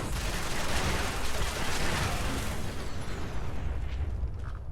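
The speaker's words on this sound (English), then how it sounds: "the minigun" A minigun fires in Fallout 4, a dense, continuous roar of rapid gunfire with mechanical rattle, loud and close, easing slightly near the end.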